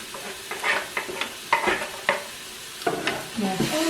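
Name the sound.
stirring chopped onion and garlic into chicken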